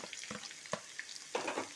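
Finely chopped ivy gourd goes into a pan of frying onions and curry leaves, giving short bursts of stirring scrapes and sizzle, with a louder rush of frying near the end.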